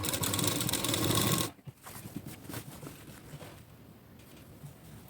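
A sewing machine stitching a blouse, a loud dense whirring run for about a second and a half, then stopping into quieter handling noises and faint clicks.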